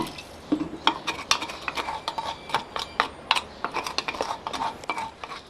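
A spoon stirs vinegar poured over garlic in a bowl while making beet pickle, giving light clinking and scraping taps in an irregular rhythm, close and fairly quiet.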